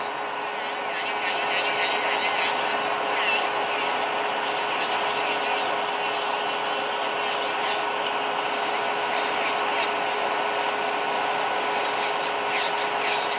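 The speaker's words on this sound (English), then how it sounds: "Always when filing quite a lot, I suggest you jump from nail to nail." Steady, close scratchy rubbing of a nail file working over nails to remove glitter, continuous and even in loudness with no pauses.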